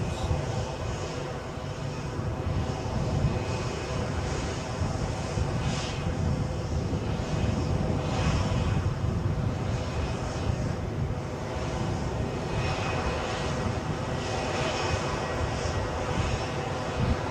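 A fixed-wing airplane landing at Edinburgh airport, heard close up: a loud, steady engine roar fills the whole stretch with gentle swells and no speech.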